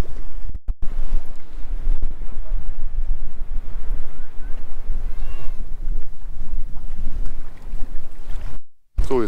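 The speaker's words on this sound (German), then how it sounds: "Ziemlich windig und frisch." Steady, loud wind buffets the microphone on a Baltic Sea pier with a constant low roar, broken by a few sharp gusts and a brief dropout near the end.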